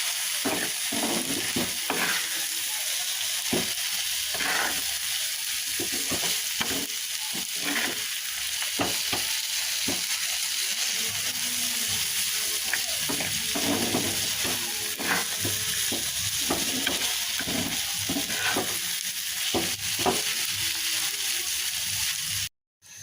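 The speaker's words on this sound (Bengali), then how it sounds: "এখন এগুলোকে ভালোভাবে নেড়ে চেড়ে ভেজে নিতে হবে" Onion, spices and neem leaves frying in a pan, with a continuous loud sizzle broken by frequent rhythmic stirring scrapes, ending abruptly.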